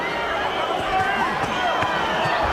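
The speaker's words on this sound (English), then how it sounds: "the crowd isn't terribly happy about it now" Heavyweight boxing arena crowd during a cautious bout, a steady murmuring roar of many spectators with scattered calls and faint thuds, heard under a commentator's talk.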